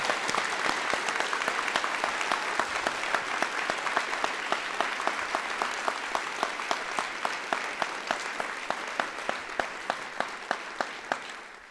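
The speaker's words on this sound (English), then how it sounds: "Please give a big round of applause to all these fantastic honorees." Sustained applause from an audience at a youth recognition ceremony honoring students, steady dense clapping with a few sharper individual claps standing out, continuing at an even level throughout without voices.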